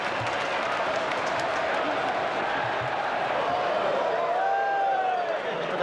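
Football crowd at a Leicester City match, 1994/1995, murmuring and reacting mockingly to fancy footwork, a steady dense crowd roar with faint whistles and calls rising near the end.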